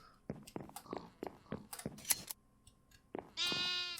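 Sheep in a Minecraft modpack game bleat as they are sheared, short clicky game sounds and brief tones ending in a clear bleat, fairly quiet.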